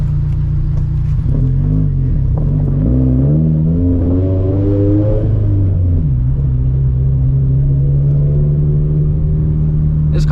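A turbocharged Toyota FRS with a built FA20 engine and straight-piped exhaust drives along with a deep, steady drone. The engine climbs and falls through the revs in rising sweeps, then settles back into a low, even rumble.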